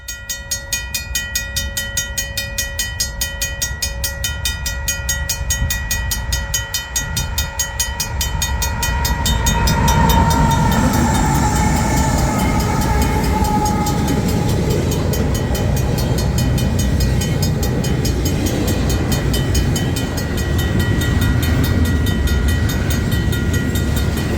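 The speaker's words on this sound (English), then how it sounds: "the crossings would activate, the gates would go down, and CN 120 would arrive" A crossing bell dings rapidly and steadily, then a heavy CN freight train rumbles through with a rising roar of wheels and cars, loud and close.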